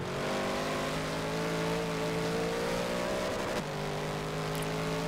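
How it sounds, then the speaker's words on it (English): Race car engine in Forza Motorsport 7 held at high revs, bouncing against the rev limiter in a steady buzzing drone that briefly dips near the end, loud and continuous with no talk. "You maxing out that rev limiter actually."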